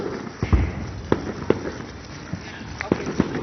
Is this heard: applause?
no